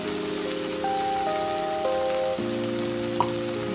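A spice paste fries in a pan for a Bengali flat bean dish, giving a steady, close, moderate sizzle under sustained tonal hum, with one brief clink near the end.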